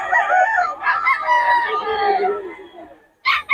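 Stag roosters of a gamefowl bloodline crow loudly and close in long, overlapping calls, followed after a brief pause by a sharp squawk.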